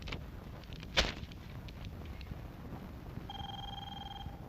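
A telephone rings in a Hindi-dubbed South Indian movie, a steady electronic ring tone near the end after a sharp knock, over quiet background noise.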